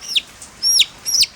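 A mother's chickens at home make three short, high clucking calls, evenly spaced about half a second apart, fairly close and clear with no talking.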